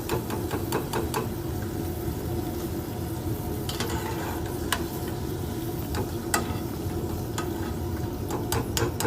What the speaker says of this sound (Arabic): هنقلي الكشمش أحسن.